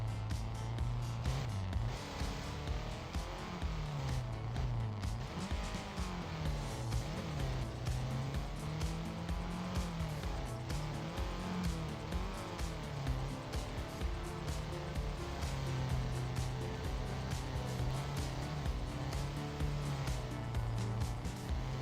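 Rally car racing fast in a video game during an esports grand final: a continuous engine roar rising and falling through gear changes, loud and steady for the whole stretch, with faint commentary beneath.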